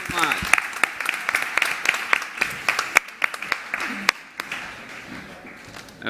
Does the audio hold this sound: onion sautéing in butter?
no